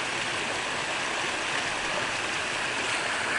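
Drinking water from a mountain spring near Dharan pours steadily through a pipe, a continuous close rushing stream with no voices.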